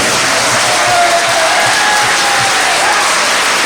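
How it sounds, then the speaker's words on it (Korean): Reporters at a church press conference receive clapping, a loud continuous wash of crowd applause that stays steady and close throughout. "내가 기자님들에게 박수 한번 쳐드리겠습니다."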